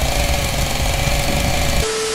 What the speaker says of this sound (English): Because Pooh has a mother flaming chainsaw